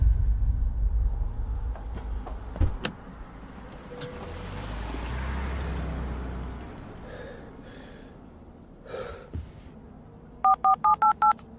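A phone gives a quick run of electronic ringing tones near the end, after a stretch of low rumble and scattered knocks in an urban drama scene. The tones are short, evenly spaced and close.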